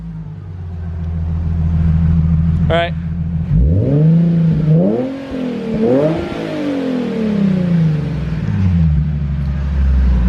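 A Nismo 370Z drift build with stock exhaust revs hard through several climbing, falling sweeps over a deep idle rumble, loud and close, with a brief spoken remark near the start.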